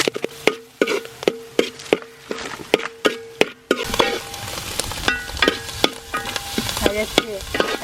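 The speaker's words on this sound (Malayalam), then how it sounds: "ജസ്റ്റ് ഒന്ന് ഇളക്കി നോക്കാം." Clams frying in oil in a village kitchen, with sharp metal spoon knocks against the pan, then a louder bubbling sizzle that carries on under repeated scraping stirs.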